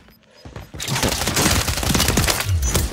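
Rapid bursts of automatic gunfire in Call of Duty Warzone (Modern Warfare 3, Urzikstan map) erupt after a quiet start and rattle on continuously, loud and close, with no talk over them.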